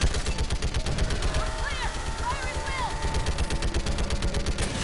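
Rapid automatic gunfire from the video game Mass Effect 3 rattles in dense, steady bursts throughout, with electronic game effects sweeping over it and a voice talking underneath.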